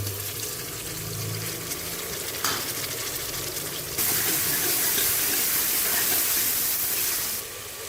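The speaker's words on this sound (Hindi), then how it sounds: "मैं इसमें टमाटर डालने लगी" Tomatoes tip into a hot frying pan for aloo gobi. A steady sizzle jumps suddenly into a loud, bright hiss of frying and then eases off near the end, close up, with no talking.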